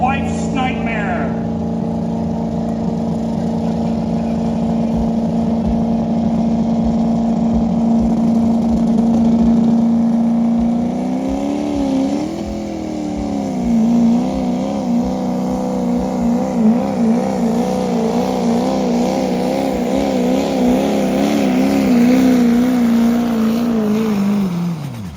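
A diesel pickup truck engine roars loud and sustained at a pro street diesel truck pull, revving and surging with wavering pitch as it strains, dropping off at the end; a voice talks over it.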